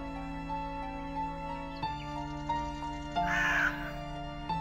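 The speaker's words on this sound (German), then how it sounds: "Sehr, sehr dramatisch, die Krähe." Crow in the horror video game Midnight Scenes: The Nanny, a single harsh caw cutting in near the end over a steady droning game soundtrack.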